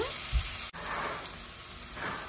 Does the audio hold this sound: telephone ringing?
no